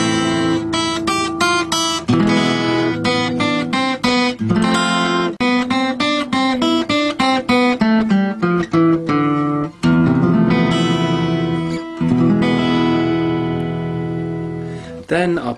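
Acoustic guitar playing a slow single-note run that begins on the second string, each plucked note ringing clearly and steadily with no talk over it.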